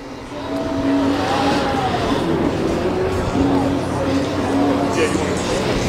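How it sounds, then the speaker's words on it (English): Cars roll in at the Beers & Gears car meet in Charlotte, a steady low engine rumble and traffic wash that runs throughout while people talk nearby. "look at these cars pulling up here."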